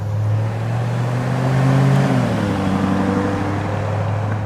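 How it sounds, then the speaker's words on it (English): Lamborghini Urus SUV fitted with a roof box rolling past on the street, a steady close engine drone that shifts in pitch midway as it goes by, with no one talking. "there is a Urus with the roof box"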